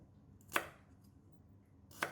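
Two sharp knife chops land on a cutting board while lemongrass, candle nuts and shallots are cut for sambal belacan, close and clear with a quiet pause between them and no talk.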